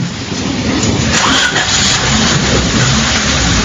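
A car engine runs steadily as a radio drama sound effect, a loud close rumble with slight revving throughout and no voices.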